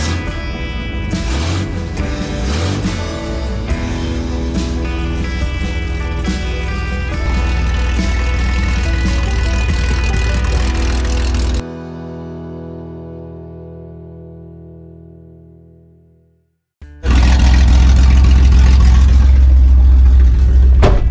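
Toyota Land Cruiser with a tuned 2F engine driving: a loud, rough engine drone that shifts through revs, fades into a low idle and near-silence, then surges back with a heavy rumble.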